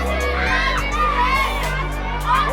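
Kids cheering and screaming as a crowd at a hockey event, a steady loud mass of high shouting voices throughout.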